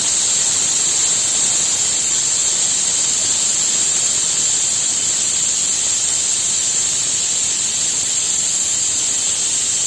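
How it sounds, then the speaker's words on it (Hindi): A pressure cooker of dal on the stove vents steam, a loud, steady, sharp hiss held evenly for about ten seconds with no one speaking. "तो देखिए दाल के अंदर हमारी सीटी आ गई है"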